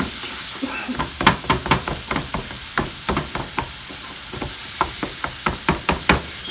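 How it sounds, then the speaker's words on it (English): Ground beef chopped up in a pan as it cooks, with a steady run of close, sharp taps and scrapes of a utensil against the pan over a soft sizzling background, no talking. "And continue to chop up our beef."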